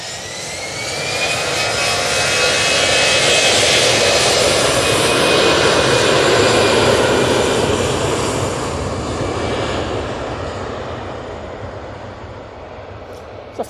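An easyJet jet airliner on its takeoff roll at Manchester Airport builds into a loud, rising jet roar with whining tones, peaking midway and then slowly easing as it climbs away.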